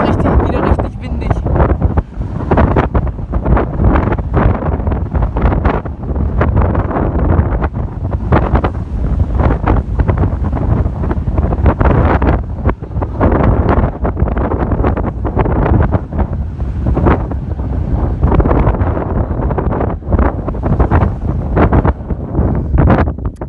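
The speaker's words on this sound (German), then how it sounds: "Und jetzt wird es wieder richtig windig." Strong wind on an open landscape with wind turbines buffets the microphone continuously with loud, rough gusts, drowning out most other sound.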